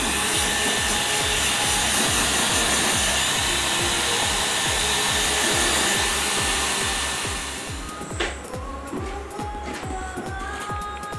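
A hair dryer blows on permed long hair with a loud, steady drone that drops noticeably in level near the end and carries on more quietly, with no voices.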